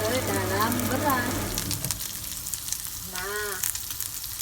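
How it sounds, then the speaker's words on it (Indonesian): Teri anchovies fry in a pan, giving a loud, constant sizzle and crackle, with a voice speaking over it at the start and again briefly near the end. "Sekarang aku goreng dulu terinya ya teman-teman, sebelum dimasukin ke dalam beras."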